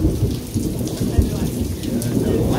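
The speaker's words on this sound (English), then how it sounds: "There's been so much lightning and thunder." A thunderstorm with lightning passes over a lakeside beach, heard from under a small patio. Steady, dense rain hiss covers the whole stretch, with low, rolling rumbles of thunder beneath it.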